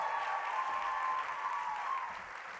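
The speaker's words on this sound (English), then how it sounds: "let's make a huge round of applause for our next speaker" Applause and cheering from a comedy-night audience greeting a speaker, a dense even roar of clapping with a whistle-like tone running through it, steady and then easing slightly at the end, no speech.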